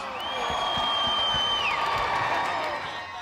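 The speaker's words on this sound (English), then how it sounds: "Let's give them a round of applause." An audience at a charity game show event breaks into applause and cheering, with a long rising and falling whistle riding over the crowd noise before it gradually settles.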